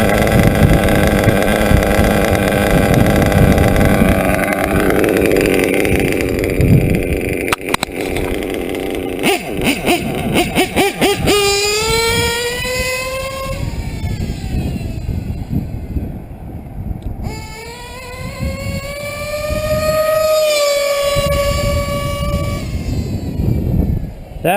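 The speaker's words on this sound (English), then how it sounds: "That's called full throttle, people." A modded R5R RCR engine screams at full throttle at a racetrack, a loud, sustained high-pitched whine rising and falling in pitch as it revs, with gusty wind noise throughout.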